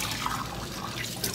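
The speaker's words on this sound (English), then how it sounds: "I'm gonna throw into the bottom of my Instant Pot 1 cup of water" Water splashes and gurgles briefly as a cup of it is poured into the bottom of an Instant Pot, a short close pouring sound.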